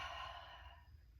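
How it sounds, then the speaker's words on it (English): A person exhales fully and slowly during a guided meditation breathing exercise, one long, close breath-out fading over about a second, with no talking. "Hold it. Breathing all the way out."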